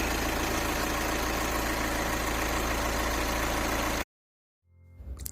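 A 2015 Volkswagen Passat 2.0 TDI diesel engine idles steadily with a low, even rumble for about four seconds, then cuts to silence before a faint rustle.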